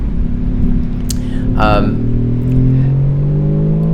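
A Mercedes-AMG GT-R accelerates on a race track, its loud engine note climbing steadily toward the end. A voice speaks briefly over it partway through.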